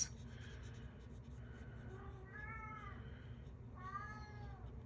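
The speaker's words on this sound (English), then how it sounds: "That's my cat." A house cat meows to be let out, two drawn-out rising-and-falling meows in the second half, faint and somewhat distant over a low background hum, with soft scratchy sounds earlier.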